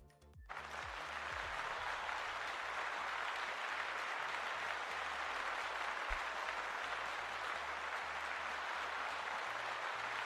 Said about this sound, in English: Let's give Data a round of applause.